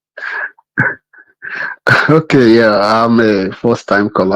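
A sharp, close sneeze bursts out during a call-in radio conversation on a phone line, preceded by short speech fragments and followed by someone talking.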